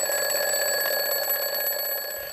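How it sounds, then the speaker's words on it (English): A lie detector gives off a steady, continuous electronic beep, a loud sustained tone with high harmonics that holds unbroken and then fades slightly at the end. "this is a lie detector. It's gonna beep every time you're not telling the truth"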